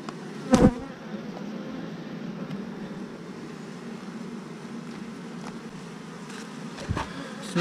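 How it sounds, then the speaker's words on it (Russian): Honey bees hum in a dense, steady drone around an open hive on a cool, changeable day, close and continuous, with a few sharp thumps and bumps of handling near the start and end. "Сегодня пчелки недобрые"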